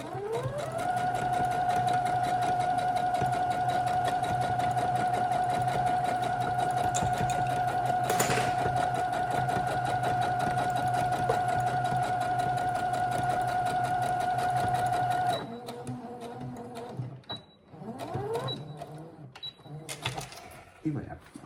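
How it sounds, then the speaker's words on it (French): Sewing machine topstitching a shoulder bag, a loud steady motor whine with rapid stitching that runs for about fifteen seconds, then stops into softer handling noises and brief clicks. "On va être obligé de faire une surpiqûre en plus. Point avant, point arrière."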